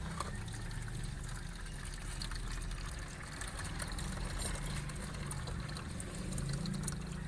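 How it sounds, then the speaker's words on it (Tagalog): Thick used engine oil mixed with water drains slowly from a Gehl R165 skid steer engine, a soft continuous liquid trickle and patter heard close up over low background noise, with no talking. "Unti-unti na yung langis dyan."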